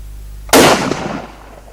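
A single sharp rifle gunshot fired without its muzzle brake, a loud close crack with a short decaying outdoor echo, alone with no talk.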